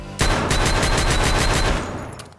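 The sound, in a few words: gunshots in a video game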